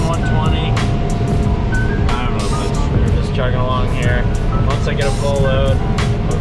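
A combine harvests corn with a steady, loud engine drone and machinery rumble filling the whole stretch, while someone talks over it throughout.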